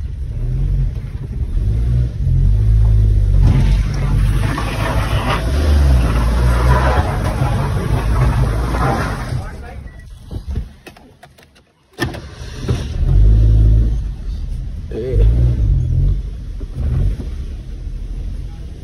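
A modified black Maruti WagonR is driven out, its engine rumbling and revving loudly and close by, dropping away briefly before surging back for the rest of the run.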